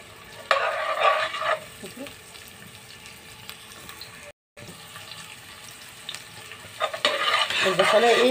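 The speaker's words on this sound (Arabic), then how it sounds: "البصلايه بنديها تشويحه كده دوبك، معلقه سمنه" Onion sizzles in a spoonful of ghee in a pan while being stirred, a crackling frying hiss that swells and fades, with a short cut partway through and a voice faintly in the background.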